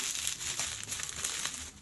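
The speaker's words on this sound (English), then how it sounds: "unwrap this thing together" Paper or plastic wrapping on a parcel crinkles and rustles in quick, irregular bursts, close and fairly quiet, with no voices over it.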